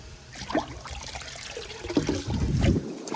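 Water splashes and trickles as it's dumped from a bucket onto a garden, a short uneven pour with gurgling bursts close by, ending abruptly.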